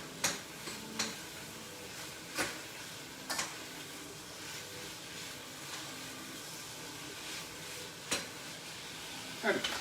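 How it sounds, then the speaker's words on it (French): Goat meat, bacon and onions sizzle over high heat in a pan, a steady frying hiss broken by sharp clicks of a utensil scraping and stirring at irregular intervals. "c'est histoire que tout ça grésille bien"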